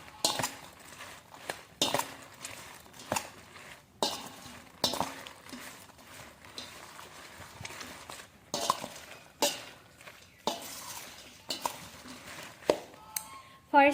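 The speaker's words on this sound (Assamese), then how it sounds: "আৰু এতিয়া ভালকৈ এইখিনি মিক্স কৰি ল'ম।" Pickle ingredients being mixed with salt in a dish, giving repeated close scraping and stirring strokes with occasional clinks of a utensil against the bowl, at an uneven rhythm over about fourteen seconds, with no talking.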